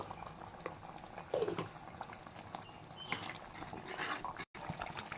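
Palak gravy simmering in a pan with turmeric and coriander powder, a soft steady bubbling close by with occasional small pops, mostly alone.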